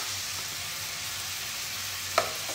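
Tomatoes fry in a pan for an Indore-style dal fry, making a strong continuous sizzle with one brief sharp clink near the end.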